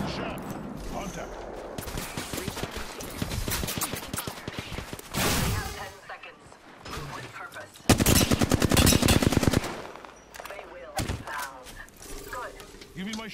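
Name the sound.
gunfire in Apex Legends video game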